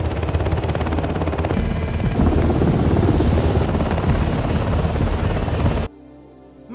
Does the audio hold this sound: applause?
no